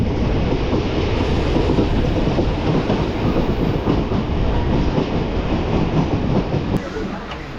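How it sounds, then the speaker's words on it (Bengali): Hazarduari Express train arriving at Murshidabad Junction, heard from on board as a loud, steady rumble with rhythmic clattering of wheels on rails, easing slightly toward the end. "ঢুকছে আমাদের ট্রেন মুর্শিদাবাদ জংশন"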